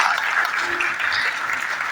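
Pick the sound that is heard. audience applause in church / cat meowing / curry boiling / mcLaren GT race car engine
audience applause in church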